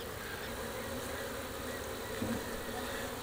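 A honey bee colony hums in a steady, close, continuous buzz during a hive inspection.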